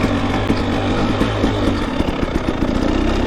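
A two-stroke motorcycle engine runs steady and close, with a rough, buzzing tone and slight revving during a quick ride in light rain.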